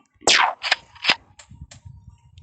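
Gunshots in a video game: one sharp crack, then several quicker shots with short echoing tails, loud and close, with no talk.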